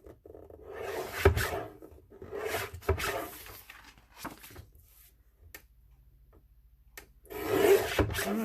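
Paper trimmer slicing white edges off paper, giving several raspy sliding strokes of about a second each, close, with quiet pauses and soft handling rustles between them.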